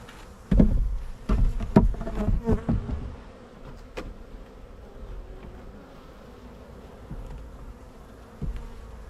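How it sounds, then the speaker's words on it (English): A dense, droning buzz of many honeybees close by inside a hive, with a few louder bumps and knocks early on before the hum settles into a steady swarm. "Ton of bees in here,"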